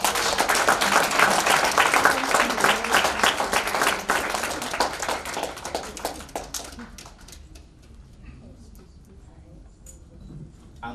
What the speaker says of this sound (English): Applaud with a warm hand clap.